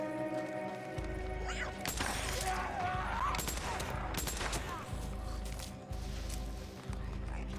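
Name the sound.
Tommy gun firing in the video game Days Gone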